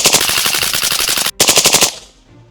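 Fast bursts of 5.7 rounds fired through a Replicator ACER suppressor during a durability test, a rapid rhythmic string of loud suppressed shots with one brief pause, then a second run that stops abruptly into quiet.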